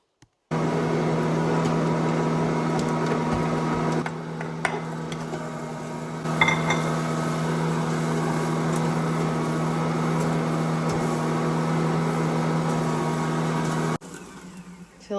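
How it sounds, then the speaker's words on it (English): An Ankarsrum stand mixer works cookie dough, a steady motor hum running for several seconds with faint clinks and knocks from the bowl, then cutting off near the end. "Time to mix up some cookie dough in the Ankarsrum"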